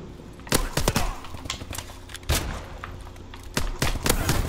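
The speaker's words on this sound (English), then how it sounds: "who's shooting me?" Bursts of gunfire in Call of Duty Advanced Warfare, a few sharp clustered volleys of shots separated by short pauses, loud and close, with no talking over them.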